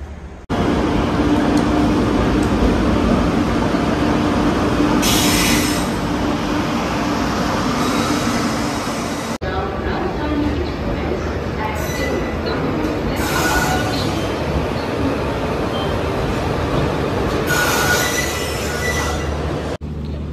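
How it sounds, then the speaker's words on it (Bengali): The Teesta Torsa Express pulls into platform 3 at New Jalpaiguri station, a loud, close rumble of rolling railcars with repeated bursts of high wheel squeal and clacking over rail joints throughout. "আমাদের নিউ আলিপুর থেকে শিয়ালদা যাওয়ার ট্রেন তিস্তা তোরসা এই যে ঢুকছে দেখো 3 নম্বর প্ল্যাটফর্মে"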